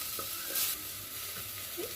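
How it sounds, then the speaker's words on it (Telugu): Chopped onions fry in oil in a clay pot, giving a soft, steady sizzle with faint stirring scrapes, quiet and close, with no voices. "కట్ చేసి పెట్టుకున్న ఉల్లిపాయ ముక్కలు, ముక్కలు వేసి బాగా వేయించాలి దోరగా"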